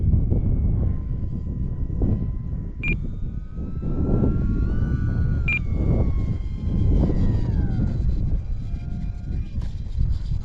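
An E-Flite Valiant 1.3m electric RC plane comes in to land, its motor whine rising and falling steadily over a loud rumble of wind and background noise.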